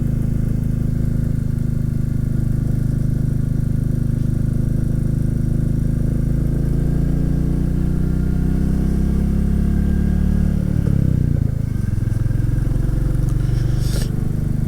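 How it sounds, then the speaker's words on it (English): A steady engine drone runs throughout, low and continuous, with a slight shift in pitch near the end as a motorcycle passes at moderate distance on a country road. "You've probably been able to hear Motorbike background."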